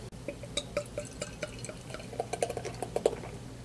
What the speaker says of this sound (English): let's get this one unwaxed, popped, poured, and see how it is